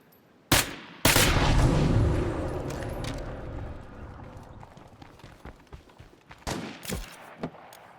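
Gunfire in State of Decay 2 aimed at a distant screamer zombie: two sharp, loud shots ring out with reverberant tails, followed by a scatter of fainter clicks and smaller impacts.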